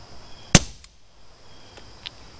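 A .22 Beretta Bobcat pistol fitted with a Banish suppressor fires one sharp, close crack followed by a faint metallic tick and a softer click later, against a quiet background.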